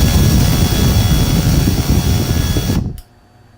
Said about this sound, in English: Gently center the left stick and press the Start-Stop button until the rotors turn off.